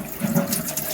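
Tap water splashes steadily over a homebrew item from a Mangrove Jacks Hazy IPA kit as it is rinsed in a sink, a close, continuous gushing wash with no talking.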